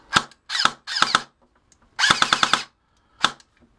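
A VFC airsoft gun set to semi-auto fires short bursts of sharp mechanical clacks: a single shot, two quick groups, a longer rapid string, then one final shot, with silent gaps between them.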